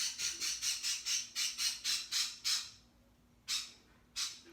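Pet birds squawk in a loud, rapid series of about ten harsh calls, then pause and give two more separate squawks, close by with no talking.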